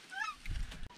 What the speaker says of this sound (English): Right up front. Two geese.